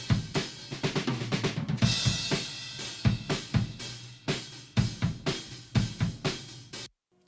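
A drum kit captured through room microphones plays a short busy groove with cymbal wash and roomy, reverberant hits, ending abruptly in silence.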